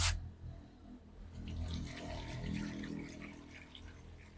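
Liquid fertilizer mixture poured into a large container while tending aglonema plants, a steady close splashing and gurgling flow that starts with a sharp onset and runs continuously.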